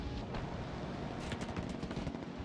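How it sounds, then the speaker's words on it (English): Bombs exploding in World of Tanks, heard as a dense, continuous rumbling roar of blasts with a burst of sharper cracks near the middle, loud and without speech. "they're already using bombs on them"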